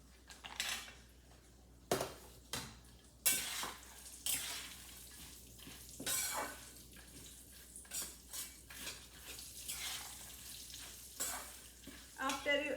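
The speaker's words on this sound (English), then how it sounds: "when you mix it, you can hear the sound of crunchiness" Crunchy roasted poha chivda with raisins being stirred in a pan, a dry scraping rattle with repeated sharp clinks of a spoon against metal, close and fairly quiet, no talking.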